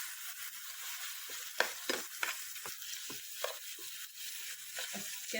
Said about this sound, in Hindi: इसे हम अच्छे से सौते कर लेते हैं स्लो गैस पे। चिकन हमारा कच्चा नहीं रहना चाहिए।